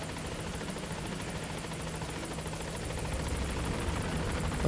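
A helicopter flying in Metal Gear Solid V: The Phantom Pain, a steady, close rotor drone with rhythmic chop that swells slightly louder toward the end, with no voices.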